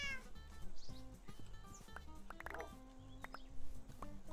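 A cat meows repeatedly in a video game, short tonal cries over layered game music and ambience, close and fairly loud.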